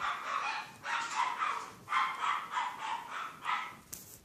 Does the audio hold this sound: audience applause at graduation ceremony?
no